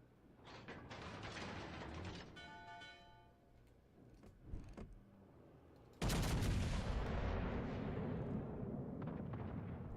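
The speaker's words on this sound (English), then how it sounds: "we're just trying to fire the front guns" Naval front guns fire in World of Warships Legends, a loud, broad blast at about the six-second mark that holds a heavy rumbling roar to the end, after quieter battle noise and scattered bangs.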